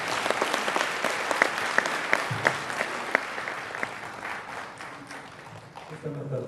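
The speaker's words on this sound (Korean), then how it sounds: "拍手で迎えてください。" Warm applause from an audience at a large indoor religious convention, dense, continuous clapping with a few sharper individual claps, fading toward the end as a voice begins to speak.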